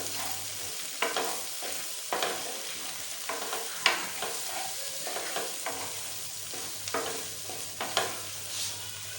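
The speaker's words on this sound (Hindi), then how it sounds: "आपको अच्छी तरह से मिक्स कर लेंगे।" Cooked fish is stirred with coarsely crushed coriander in a frying pan, with a continuous oily sizzle under irregular scraping and clinking strokes of a spoon, heard close and fairly quiet.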